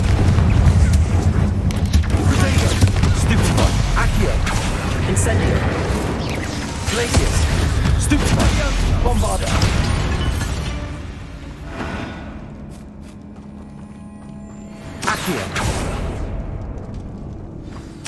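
A Confringo blasting spell from the Hogwarts Legacy video game goes off as a deep, rumbling explosion with whooshing debris. A sustained roar fades after about ten seconds, followed by a second, smaller burst.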